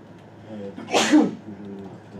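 A single sharp sneeze bursts out close by, loud and brief, against a quiet background.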